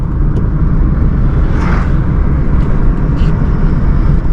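A car cruising at speed in fourth gear, around 60–65 km/h, on a narrow road, giving a steady, loud engine and road rumble throughout with a faint whirring swell midway.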